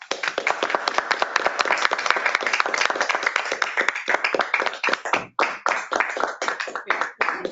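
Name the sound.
audience applause welcoming speaker Judy Young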